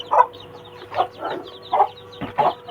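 An Aseel hen clucks in short, separate bursts, five clucks spaced about half a second apart, fairly close with a quiet background.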